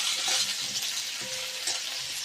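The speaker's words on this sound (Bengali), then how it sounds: "আমরা আলুটাকে এইভাবে রেখে দিচ্ছি ভাজার জন্য, ওটা ভাজতে হতে থাক, আলু ভাজতে থাকুক এখানে।" Potatoes fry in a pan with a steady, bright sizzle that stays loud and even across the short stretch, with faint stirring scrapes beneath it.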